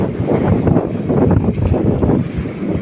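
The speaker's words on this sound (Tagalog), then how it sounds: "ang lakas na naman ng hangin at alon." Strong wind buffets the microphone while waves wash and churn at sea beside a small boat, a loud, continuous, rumbling roar with no voices.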